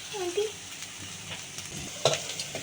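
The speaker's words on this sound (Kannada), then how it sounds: "ಇವಾಗ ನಾನು ಇದನ್ನು ಒಗ್ಗರಣೆ ಹಾಕ್ಕೊತಾ ಇದ್ದೀನಿ." Ghee tempering with onion and tomato in a pan, a soft steady sizzle with stirring scrapes and a few sharper spatters near the end, close and moderately quiet.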